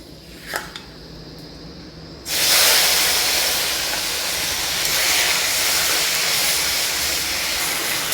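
Onion paste hits hot oil with bay leaf in a kadai: after a quiet start with a couple of small clinks it bursts into a loud, steady, close sizzling hiss that carries on without letting up.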